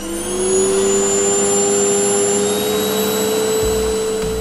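A 1000-watt vacuum cleaner runs loud and close with a steady motor whine and airflow roar, holding nearly constant throughout with no speech.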